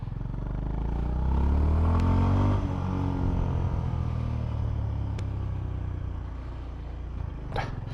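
A Honda GB350S 350cc motorcycle cruising on a UK motorway, its steady engine drone and wind rumble loud and continuous throughout, with pitch sweeping as it accelerates early on.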